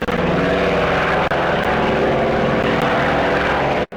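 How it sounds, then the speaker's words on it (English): A propeller aircraft at takeoff in a flight simulator, recreating a wartime transport leaving Mackay in fog: a loud, steady multi-engine drone with beating harmonics that holds throughout, briefly dipping near the end. "The aircraft departed Mackay in fog just before 6 a.m. for Papua New Guinea"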